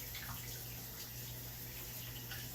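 Faint tap water runs steadily into a sink while a spoon is washed free of graham cracker crumbs. The gentle, even rush of water holds for the whole short stretch, with no voices.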